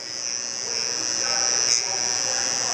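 An electric hair trimmer buzzes steadily and close up, a bright constant whine as it cuts a straight front lineup, with one brief louder swell near the middle.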